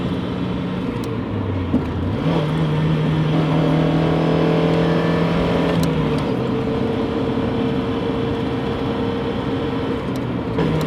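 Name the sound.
1992 Mazda MX-5 Miata roadster driving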